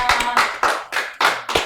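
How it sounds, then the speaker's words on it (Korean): Church congregation clapping during a Sunday service marking the church's second anniversary, a brisk run of about six close, loud claps in quick succession. "우리 설립 2주년 하나님께 감사의 박수 올려드립니다"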